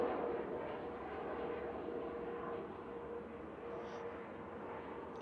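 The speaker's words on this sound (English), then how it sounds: "So that was EISIA, a 6-year-old A320 Neo" Airbus A320neo airliner, about six years old, passing at Manchester Airport: a steady, continuous broadband engine roar that stays fairly constant and moderately distant throughout, with no voices.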